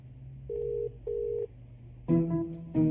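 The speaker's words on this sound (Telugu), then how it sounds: "నేను ఫోన్ చేసినా తీయట్లేదు" An unanswered phone call rings, sounding two short, steady electronic tones, then a louder burst of tones begins near the end.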